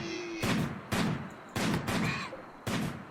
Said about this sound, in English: He shot the wrong animal.